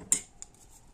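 Scissors snip surplus crochet yarn, giving two quiet, crisp clicks close together, the first a little sharper than the second, in an otherwise hushed room.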